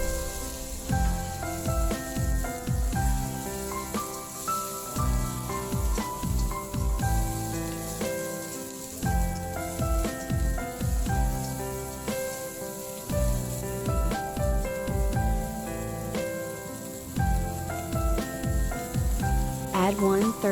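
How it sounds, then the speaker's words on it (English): Cauliflower sizzles as it is stir-fried with bean paste in a wok, a steady spattering hiss with repeated scraping stirs, heard beneath continuous background music. "Add cauliflower, stir well."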